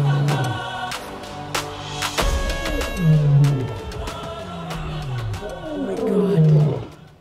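Lions at an animal orphanage in Nairobi give repeated deep, loud roars and grunting calls close by, the bursts rising and falling in a rhythmic series across the recording, with a few faint background sounds between them.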